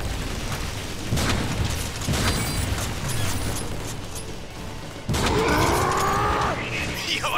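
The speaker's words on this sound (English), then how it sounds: "pow, grenade!" A grenade goes off in War for Cybertron, a sudden loud blast bursting out late among continuous gunfire, clanking mechanisms and booming battle noise from the game.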